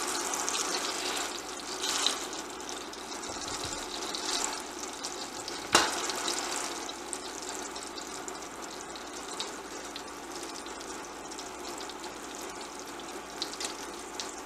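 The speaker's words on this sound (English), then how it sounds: "And we're going to fry these up." Bologna slices fry in a pan over a steady, fairly quiet sizzle, with faint clinks and stirring noises on top and no talking.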